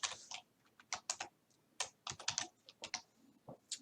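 Typing on a computer keyboard while entering code, with a run of crisp, close key clicks in irregular bursts and short pauses, and no voice.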